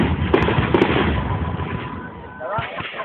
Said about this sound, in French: On dirait un vrai feu d'artifice à jet de roue!